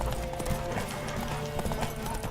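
Horse hooves clip-clop at a fast, rhythmic gallop in The Witcher 3 video game, loud and close, with faint voices underneath.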